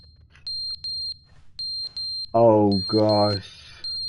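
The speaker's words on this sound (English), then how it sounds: "It's the smoke alarm." A smoke alarm goes off in The Stanley Parable video game, a steady high electronic tone pulsing in short repeated beeps, with a voice breaking in loudly midway.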